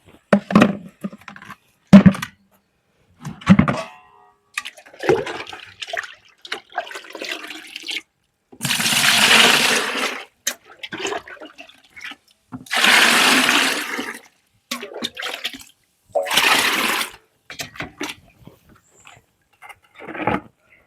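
Liquid fertilizer of fenugreek and peanut cake poured from a container onto tomato plants, coming in several loud gushing splashes of a few seconds each between quieter handling noises.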